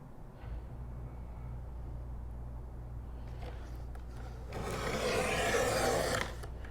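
A craft knife blade slices through a chipboard sheet along a ruler: a short scratch, then a sustained close rasping scrape lasting over a second, over a steady low background hum.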